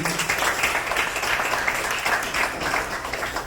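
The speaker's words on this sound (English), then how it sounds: "another round of applause to Betty and your team for all the great work you do" An audience applauds at a New York State governor's event, a steady, even wash of clapping throughout.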